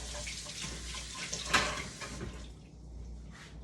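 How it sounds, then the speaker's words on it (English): Tap water runs in a kitchen sink as a knife coated in peanut butter is rinsed, a close splashing rush for about two and a half seconds before it cuts off to near quiet. "you're going to want to run over to your sink and wash your knife off"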